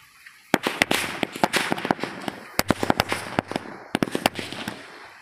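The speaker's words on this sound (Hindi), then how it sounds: "अब जलाते हैं हमारे बिजली बम की लड़ी को चलिए जला के देखते हैं ये कैसे फटती है" A string of bijli bomb firecrackers goes off in rapid, irregular sharp bangs, loud and fairly close, in bursts with brief gaps between clusters.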